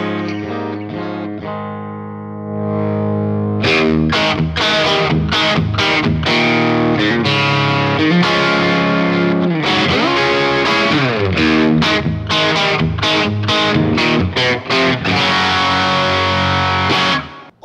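Single coil electric guitar through a Yamaha THR10 amp with compressed, slightly driven tone, a short chord opening into busy rhythmic picking and chords, loud and close with no talk.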